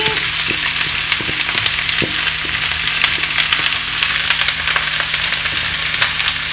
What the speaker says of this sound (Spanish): Las espinacas las vamos a ir así, cocinando, rehogándolas